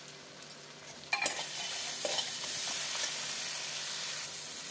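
Ground spices and slit green chilies frying in a pan while being stirred for a golda prawn curry, a soft steady sizzle with a few sharp clinks of the spoon against the pan, close and fairly quiet.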